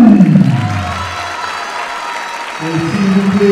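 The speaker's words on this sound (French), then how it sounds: "on applaudit son adversaire" A crowd at a boxing match applauds and cheers loudly for the fighters, sustained clapping filling the hall while an announcer's voice booms over the noise.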